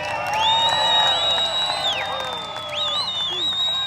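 A crowd at the 2006 World Long Drive Championship cheers and whoops for five-time world champion Jason Zuback. High whistles and shouts rise over a continuous roar of voices.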